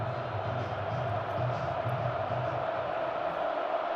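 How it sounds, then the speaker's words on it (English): A large college football stadium crowd at halftime of a USC game, a steady, broad roar of many voices filling the air, continuous and fairly distant with no distinct bursts, with faint talk mixed in. "you can hear the crowd recharge their batteries at halftime"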